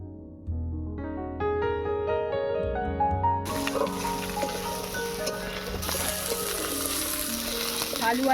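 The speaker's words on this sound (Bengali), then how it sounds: "আলু আর লাউ ডাঁটাটাকে একটু ভেজে নিলাম তেলের মধ্যে।" Potatoes and bottle gourd stalks drop into hot oil, which bursts into a loud, sustained sizzle with stirring clatter, after a brief stretch of background music at the start.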